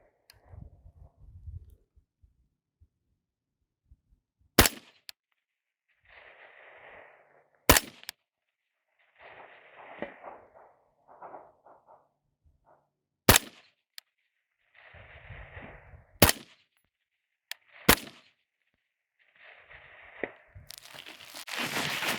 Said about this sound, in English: I'm kind of shooting a little bit quick, just stringing them or whatever